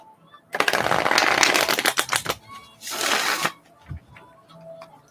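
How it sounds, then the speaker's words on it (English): Tarot cards riffled in a ruffle shuffle, a loud rapid flurry of papery flicks lasting about two seconds, then a second shorter burst, followed by a soft thump. "I'm going to do a little ruffle shuffle."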